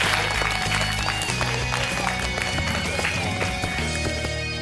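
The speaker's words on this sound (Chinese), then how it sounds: "我们也把掌声给到小明哥" An audience gives warm applause at a televised office internship show, a dense continuous clatter of many hands clapping at close range, steady for several seconds with a voice or two mixed in.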